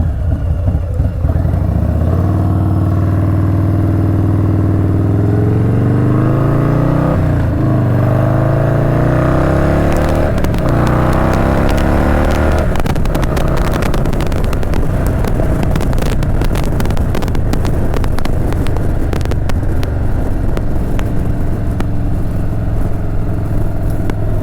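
A contractor's work truck cruises past on the road, its engine rising from a low drone to a louder, rougher pass with wind buffeting the microphone, then settling back to a steady rumble.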